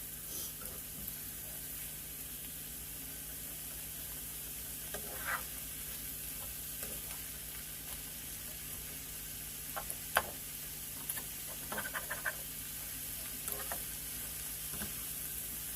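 Onions fry quietly in a pan with a steady soft sizzle, broken by occasional clicks and scrapes of stirring.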